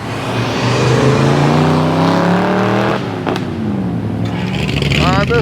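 Hot rod cars rolling into an outdoor car show on the tarmac at an air museum, loud engines revving and passing close by with shifting pitch, while people talk over them.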